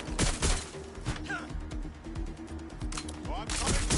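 Video game gunfire heard as rapid, loud cracks and bursts over a constant roar of combat noise, with a voice talking underneath.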